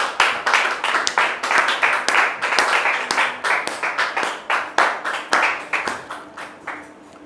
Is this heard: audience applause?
yes